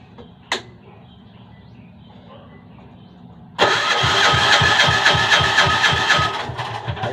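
A chapel's stubborn generator engine being started: a brief click, then the engine catches suddenly and runs loud and close with a steady pulsing idle, fading slightly near the end, no talking.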